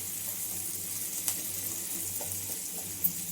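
Tomato chitranna masala fries gently in a pan, a soft, steady sizzle close by with a couple of brief spoon taps and scrapes, no voices over it.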